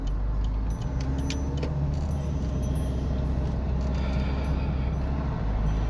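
Inside a moving car on the road, a steady low engine and road rumble hums continuously, with faint rattles and jangles over the drone.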